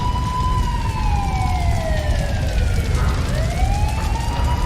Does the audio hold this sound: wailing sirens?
yes